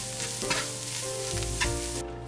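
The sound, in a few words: stirring and frying vegetables with black pepper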